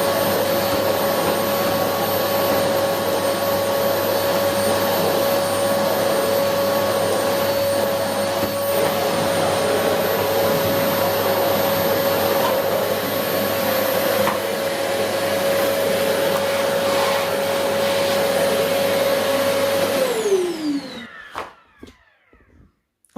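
Philips FC8575 vacuum cleaner running on carpet, a loud steady motor whine with a constant tone for about twenty seconds before it winds down, followed by a few clunks and quiet.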